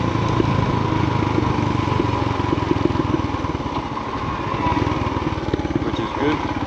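Motorbike engine pulling through first gear while riding, a steady close mid-pitched drone with rapid firing pulses throughout, loud and continuous with faint wind, no clear talk.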